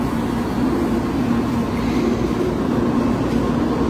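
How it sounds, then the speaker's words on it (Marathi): A train pulls into a station platform in Japan with a loud, steady low rumble and hum of rolling carriages, with no voices heard. "ही एक दुसरी ट्रेन आली"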